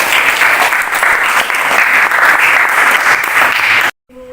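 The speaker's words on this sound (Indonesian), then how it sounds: "Kita kasih aplaus buat kelompok Rilmi." A classroom of students claps for a student group, a dense, steady burst of applause lasting about four seconds before cutting off abruptly.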